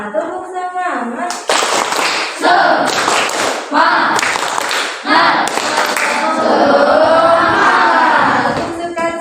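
Children in a classroom perform the rhythmic 'tepuk semangat' spirit clap, with repeated loud clapping bursts and group chanting throughout.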